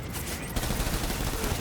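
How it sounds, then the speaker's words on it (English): Rapid gunfire in Death Stranding, a dense fusillade of shots that intensifies midway and stays constant and loud throughout the short burst. "Nope, who's shooting at me?"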